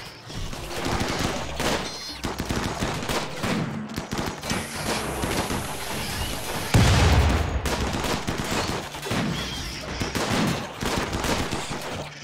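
Colonists in RimWorld trade gunfire in repeated bursts of sharp shots, some rapid like automatic fire, with a heavier blast partway through, all close and loud with no talking.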